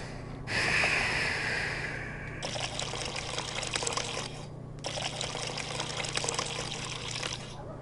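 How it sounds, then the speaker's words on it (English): Liquid pouring into a cup in the Job Simulator video game, a steady trickling stream with a hissy, splashy texture, close and continuous with brief breaks, no talking. "Pour it out into a cup and then we can serve it."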